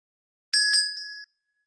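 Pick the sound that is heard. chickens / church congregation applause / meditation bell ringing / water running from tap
meditation bell ringing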